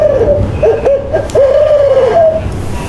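A man imitates an owl's hoot with his voice to call in a wild owl, giving a run of loud, close, wavering hoots over about three seconds.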